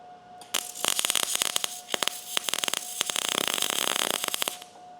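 A MIG welder lays a bead on sheet metal, producing a close, harsh crackling buzz in rapid sputtering bursts over a steady electrical hum, stopping at the end.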